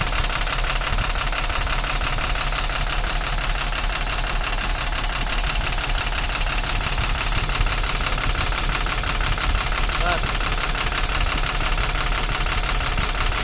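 A vehicle engine idles with its fourth fuel injector opened and shows no response, a loud, steady close-up running sound with a fast, even knocking vibration that holds unchanged throughout.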